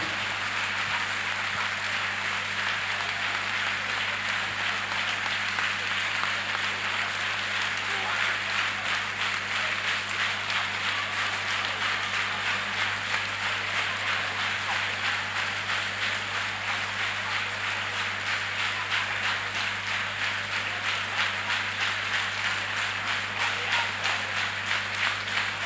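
Congregation applauding during a night prayer service, a steady dense patter of many hands that holds at an even level throughout, with no pauses and no clear talk on top.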